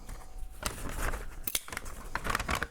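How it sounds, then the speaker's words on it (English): Scissors snipping a slit into a paper bag, a few sharp crisp cuts with crinkling paper between them, close and fairly loud with no talking. "I'm going to take our paper bag and I'm going to cut a hole right in this area"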